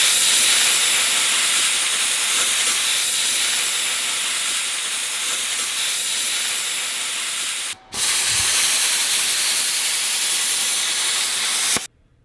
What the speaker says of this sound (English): Brad is behind me getting all set up on the plasma cutter because we got to modify the factory windage tray